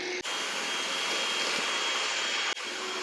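Ecovacs robot vacuum cleaner running in a home kitchen, a loud steady whirring suction roar with a high whine that cuts out briefly twice and resumes, alone without talk.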